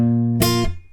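A low G bass note sustains on guitar before the second and third strings are struck together in a bright pluck, then damped by the picking hand so the ring stops abruptly.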